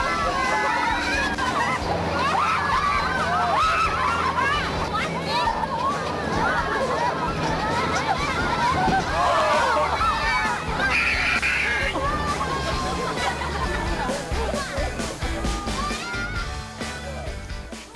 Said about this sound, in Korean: 개울물을 가로지를 때 아이 어른 가리지 않고 모두 놀이기구 타는 듯 환호성을 칩니다